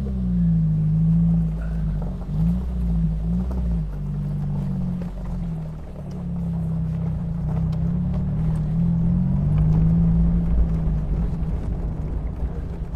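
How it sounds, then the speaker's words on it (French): A 2011 Royal Blue Morgan Plus 4 drives along with a steady, droning engine note whose pitch wavers and climbs slightly with the revs. The sound is continuous and close throughout. "les premiers tours de roue sur cette Morgan Plus 4"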